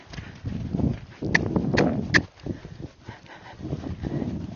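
A Tennessee Walking Horse moving in a running walk and speeding up, its hooves giving a steady, close clip-clop of quick footfalls over a soft ground bed with a few sharper strikes.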